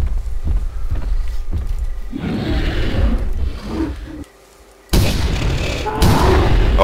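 Sharp gunshots crack in quick succession in the video game theHunter: Primal, a nighttime dinosaur hunt, then heavier booming bursts follow, with someone talking over parts of it.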